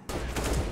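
A short burst of rapid gunfire from the video game CS:GO crackles densely for under a second at moderate loudness.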